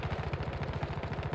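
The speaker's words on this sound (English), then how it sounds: "Some gunfire nearby." Rapid automatic gunfire in Call of Duty: Warzone on Rebirth Island, a steady stream of quick, evenly spaced shots at moderate level, fairly close and continuous throughout.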